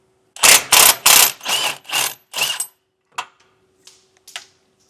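A ratchet wrench turns an 18mm lower bolt on a truck during a front-mounted trailer hitch install, a half dozen loud rapid clicks followed by a few faint scattered taps.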